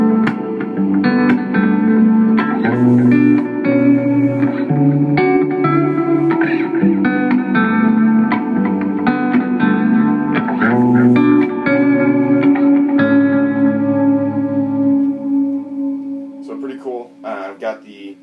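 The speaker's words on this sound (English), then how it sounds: "I have a soft tremolo again with a pretty fast delay with the chorus, or the choral reverb from the Bigsky." Electric guitar played through a pedalboard rig with soft tremolo, fast tempo-synced delay and a Bigsky choral reverb, ringing chords and notes washing into a lush, echoing tail over roughly eighteen seconds.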